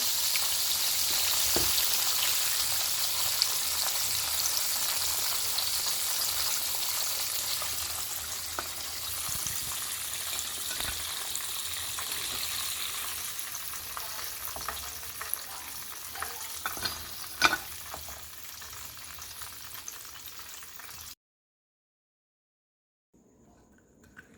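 Chicken pieces for homemade KFC-style fried chicken sizzle in hot oil, a dense continuous crackle with occasional pops and a stir, fading slightly before cutting to silence near the end.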